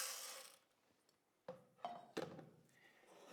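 Coffee beans being tipped into a roaster hopper for a peach co-fermented batch, heard as a few separate clunks and rattling pours amid quiet mechanical clicks, close and moderately loud.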